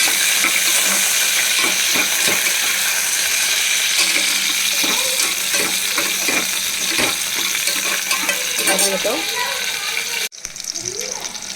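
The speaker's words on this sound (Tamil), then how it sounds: "சின்ன வெங்காயம் வதக்கிட்டோம்." Small onions sautéing in a pan for sambar rice, a steady loud sizzle with repeated scraping stir strokes throughout, briefly cut off near the end.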